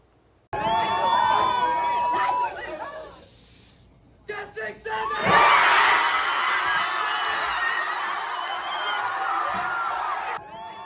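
A crowd at an In-N-Out in California erupts as order number 67 is called: a brief murmur, a short pause, then a sudden loud burst of whooping, cheering and shouting that rings on steadily.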